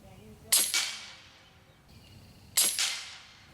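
Two sharp, snappy shots from an LCS Air Arms SK19 .30 caliber PCP air rifle, about two seconds apart, each a crisp crack with a short ringing tail in quiet outdoor air.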